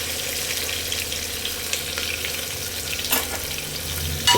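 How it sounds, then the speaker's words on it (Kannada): Onion and green chillies frying in a pan, a steady close sizzle with a couple of soft stirring scrapes and a clink near the end. "ಈರುಳ್ಳಿ ನೀಟಾಗಿ ಗೋಲ್ಡನ್ ಬ್ರೌನ್ ಆಗೋವರೆಗೂ ಫ್ರೈ ಮಾಡ್ಕೊಳ್ಳೋಣ."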